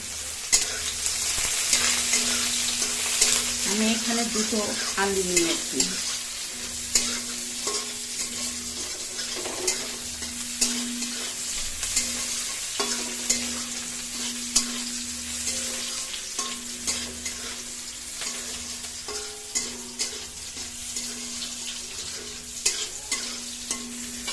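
Chopped onion and green chilli fry in a pan for a rohu fish and potato curry, a loud, close sizzle with repeated spatula scrapes and knocks throughout, no talking.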